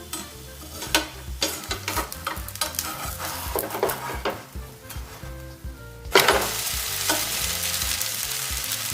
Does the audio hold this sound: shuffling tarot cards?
no